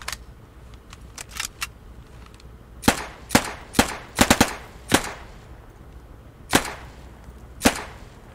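A panther turret firing in a video game, a series of sharp, separate shots in uneven clusters, loud and close, with long quiet gaps between the bursts and no talking.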